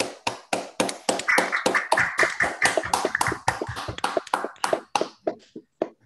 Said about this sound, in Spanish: Bueno, aplaudamos.